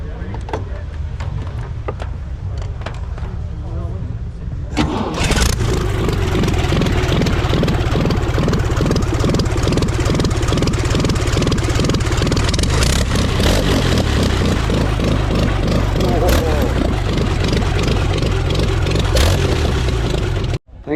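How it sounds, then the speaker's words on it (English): A prewar V8 racing car engine fires up at a Prescott hill climb meeting after a quiet lead-in, then runs loud and close with a rough, pulsing idle that continues to the end. "Thanks a lot for starting her up, Neil."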